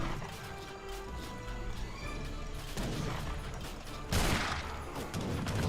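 Heavy cannon and cavalry clash in Age of Empires 3 Definitive Edition: a dense, continuous din of booming shots, crashes and hoofbeats, with a louder burst of impacts near the end.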